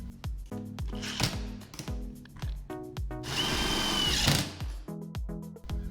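A power drill drives self-tapping screws into the L brackets of a sliding steel-framed closet door: repeated short whirring bursts with brief pauses, then one longer, louder screeching run near the end, close and clear.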